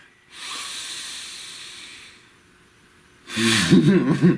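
Slow, deep breaths close to the mic: a long airy inhale, a quiet pause, then a heavy breathy exhale with a rough, slightly voiced edge.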